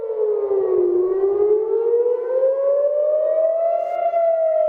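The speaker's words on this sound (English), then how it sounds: "Vince, can you hear the siren?" A civil defense siren wails outdoors in a long, steady rising and falling tone with strong harmonics, loud and continuous for the whole span with no talk over it.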